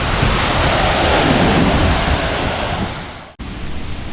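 Italian Alpine waterfall rushing in a loud, dense, steady roar close by, briefly interrupted by a sharp cut before the rushing resumes.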